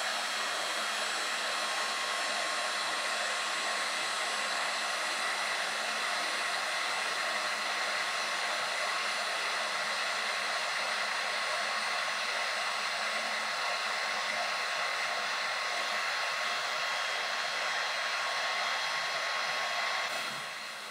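A heat machine blows hot air onto a salvaged silicon chip, giving a loud, steady, close rushing hiss that runs unbroken for about twenty seconds before it cuts off.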